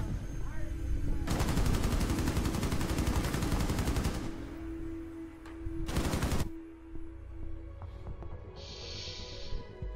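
Light machine gun firing in a ranked video game match, a loud sustained burst of rapid automatic fire for about three seconds, then a second shorter burst, with quieter game sounds between.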